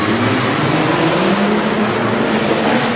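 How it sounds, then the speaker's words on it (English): A 1985 Subaru GL in red, white and blue and a Ford Ranger race side by side at a Tough Trucks event in Harrisburg, PA. Their engines make a loud, steady roar that holds constant throughout with no pauses. "Trevor Myers in the red, white, and blue 85 Subaru GL taking on Richard Kramer in the Ford Ranger"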